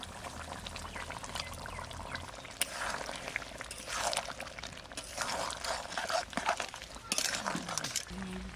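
Liquid is poured into a pan of cooking chicken spiced with Himalayan timbur, a faint trickling and splashing that rises and falls in bursts, with soft talk in the background.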